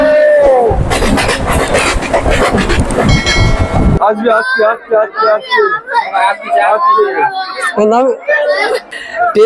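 A Howrah to Digha local train departs, rumbling and clattering loudly for a few seconds, then cuts to close chatter and children's voices over quieter background noise.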